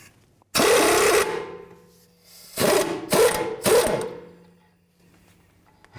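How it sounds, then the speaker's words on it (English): A ratchet or power driver with an 18mm socket loosens the tie rod nut on a 2011-2015 Chevy Cruze front inner tie rod. Three or four close, loud buzzing bursts are separated by short pauses. "Take an 18mm socket, remove the nut."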